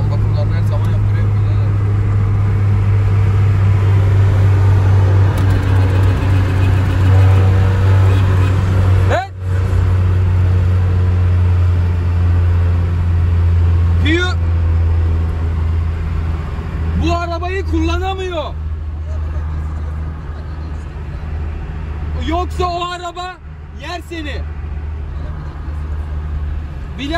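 A Honda car engine fitted with headers and a carbon air filter drones loud and steady for the whole stretch, with a brief dip partway through, while people talk over it.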